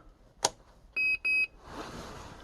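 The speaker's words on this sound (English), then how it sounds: "that beep lets you know that it's engaged and ready to go" A sharp click, then two short high-pitched electronic beeps in quick succession from the sound unit of a converted Bruder D11 model powering up, followed by a faint hiss; fairly close and clear.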